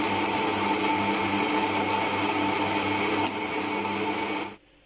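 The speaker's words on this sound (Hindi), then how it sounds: "एक दफ़ा फिर हम इसको अच्छी तरह से मिक्सर में अच्छी तरह से मिक्स कर लेंगे।" Electric kitchen blender mixing mango ice cream, whirring at a steady high pitch for several seconds, then cutting off abruptly with a brief spinning-down rattle.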